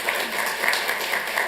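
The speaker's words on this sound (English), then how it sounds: "Yes, a round of applause, please." Audience applause in a city council chamber after a family story is shared, a short even patter of clapping with no voices over it.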